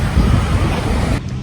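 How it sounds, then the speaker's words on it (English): Ocean surf breaking on a crowded beach in Santa Barbara, California. A loud, steady wash of rushing water with wind noise fills the short stretch before it cuts off. "The waves are great for surfing, and there hasn't been a storm, so swimming and surfing is okay."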